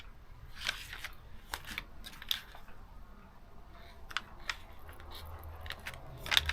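Scissors snip through cardboard backing while a magnetic craft piece is being made. Sharp, scattered cuts and clicks come close and fairly quiet, in irregular bursts over a faint background hush.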